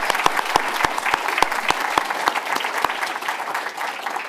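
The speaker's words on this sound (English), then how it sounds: "We give this amazing panel a great round of applause." Conference audience at a fintech event in Leeds gives a sustained round of applause, dense steady clapping from a crowd with a few sharp individual claps standing out near the front.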